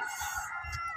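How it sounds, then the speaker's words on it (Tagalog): A rooster crows close by, one bright, sustained harmonic call. "Tandang."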